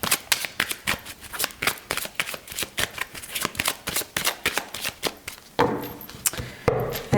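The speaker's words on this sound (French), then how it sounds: "je vais tirer les cartes, on va voir." A deck of tarot cards is riffled and shuffled in rapid, crisp bursts, a quick run of close, sharp flicks and slaps that keeps up without a break and ends with a few looser shuffles.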